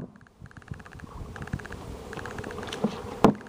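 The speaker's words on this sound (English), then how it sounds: "Now the bees, they're climbing a little bit, so we need to wet them down a little more." Bees buzz in a close, busy swarm around a grafting box, a droning hum with scattered rustles and a sharp louder burst near the end.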